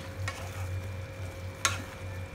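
Fried paneer is stirred into a simmering mustard curry: a faint bubbling sizzle runs underneath, and a couple of brief spoon scrapes stand out, the second one sharper.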